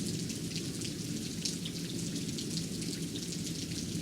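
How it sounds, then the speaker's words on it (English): Steady, dense video game rainfall patters evenly throughout, a continuous hiss of drops with no voices. "This is rain."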